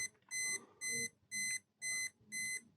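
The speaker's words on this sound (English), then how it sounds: "now we're on the timer" A 1980 Olympus XA2 vintage film camera's self-timer sounds five evenly spaced, high electronic beeps in a quiet room, each about a quarter second long.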